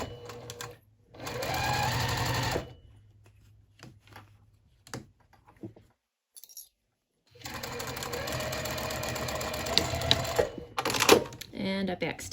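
A sewing machine stitches thin quilt cotton for a lanyard in two main bursts of rapid, close mechanical whirring and clicking, separated by a quiet pause with scattered small clicks and handling noises.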